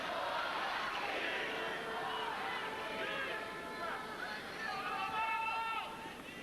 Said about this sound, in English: Crowd trying to encourage Tim.